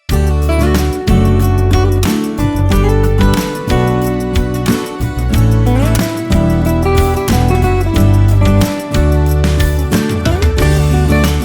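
Synth pads made from a single Analog Lab tone and bounced to audio, for an acoustic guitar track produced in Cubase, sustain as dense, loud chords alone, with a few clear breaks where the harmony changes.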